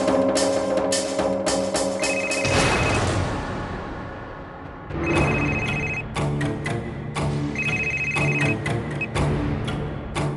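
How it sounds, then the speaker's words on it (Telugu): A ringback telephone tone repeats during an outgoing call, with steady tonal bursts in a regular cadence over a loud musical background score from a Telugu TV serial. "ఇప్పుడే నేను తనకు ఫోన్ చేస్తాను"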